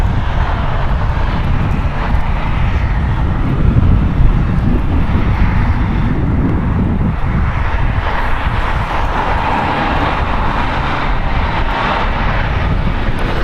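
A Delta Airbus A321neo departs LAX on the north side, giving a loud, sustained jet engine roar that swells slightly and then holds steady, with no voices.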